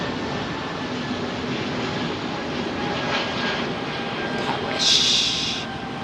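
An airliner engine spools up at Heathrow Airport, a steady broad roar with a thin whine running through it. A sharper hissing surge swells briefly near the end.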